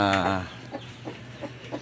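Rhode Island Red chickens on a farm give a loud cluck up close, then a series of softer, evenly spaced clucks, with a voice talking over the start.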